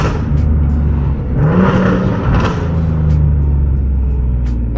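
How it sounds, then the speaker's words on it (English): Nissan Z sports car with a natural, untuned exhaust, a deep steady rumble that swells as the engine revs, loud and close with no talking. "I cannot get enough of this exhaust."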